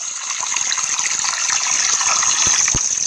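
Water gushes steadily from a pipe into a shrunken river in rural Jamaica, a continuous close, loud rushing splash with a couple of brief thumps near the end.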